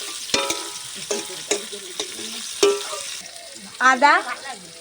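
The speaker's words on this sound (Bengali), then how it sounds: "আস্তে আস্তে ভাজলে পেঁয়াজটাও কাঁচা থাকবে না, ভেজে যাবে" Onions fry slowly in a wok, their sizzle punctuated by a series of sharp spatula scrapes and clanks roughly every half second, close and fairly loud. A brief burst of a voice or other tonal sound comes near the end.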